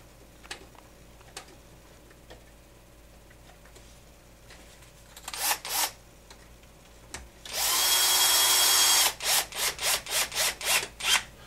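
A power tool tightens screws directly into plastic parts on an HPI Baja SS RC car, heard as a sustained burst of whirring followed by a rapid series of short, close driving pulses, with a few light clicks earlier.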